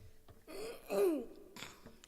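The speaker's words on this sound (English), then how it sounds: "I'm not supposed to be clearing my throat" A single short throat clear, close and fairly quiet, a rough rasping burst followed by a faint breath.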